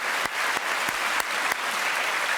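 A studio audience on a French television variety show claps in a dense, loud burst of applause that carries evenly throughout, alone without talk.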